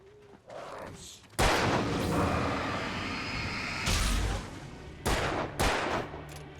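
Gunfire in the video game Alan Wake: loud, dense bursts of shots and rumbling booms that run almost continuously, with a few more sharp blasts near the end.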